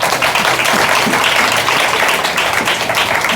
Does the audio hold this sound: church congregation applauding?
yes